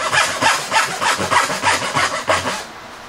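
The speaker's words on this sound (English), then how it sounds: "Break up the fibers and then just chop it out with a chisel." Hand work on wood: about ten rhythmic rasping strokes, close and loud, as fibers are broken up and chopped out with a chisel, the pattern slowing and fading near the end.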